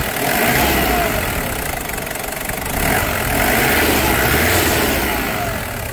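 A Toyota Hilux Surf 4x4 1KZ diesel engine idles with a clattering rumble, rising in two brief revs before dropping back to a steady idle, close by.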